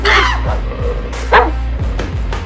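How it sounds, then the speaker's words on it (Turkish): A dog barks and yips several times in quick bursts, fairly loud and close over a low background rumble. "Evin içinde köpek mi var? evet. Bizde köpek var."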